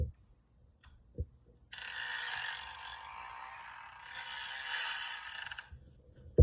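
A fishing reel clicker, a Penn Senator 12/0, buzzes in a steady, fine ratcheting rattle for about four seconds, close and moderately loud, with a few soft handling knocks before and after.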